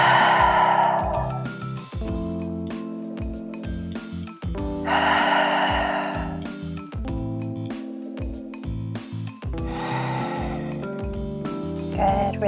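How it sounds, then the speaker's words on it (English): Three deep, audible breaths taken in a bound yoga pose during a beginner-friendly flow, each a long, airy exhale a few seconds apart over steady background music. "3 deep breaths"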